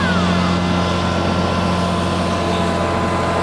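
A tractor-mounted flail mower (épareuse) on a farm runs at full power, giving a loud, steady, close engine drone with a strong humming tone and whirring blades, with no talk.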